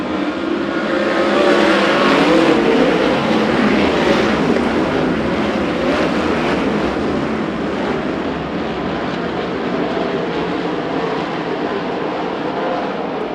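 USAC and CRA sprint cars race down the back straightaway of the Perris Auto Speedway oval during a final night of racing. A loud, continuous engine roar from the field stays strong throughout, with no talk over it.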